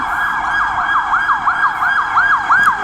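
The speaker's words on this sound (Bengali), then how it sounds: "এই যে পুলিশের গাড়ি যাচ্ছে" A police vehicle siren wails in a rapid repeating rise-and-fall pattern, loud and close as it passes along a road in Bangladesh, with faint traffic beneath.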